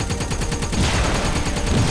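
MG42 anti-aircraft gun in a Wolfenstein video game firing continuous rapid bursts, a loud dense mechanical rattle that runs without pause throughout, no voices over it.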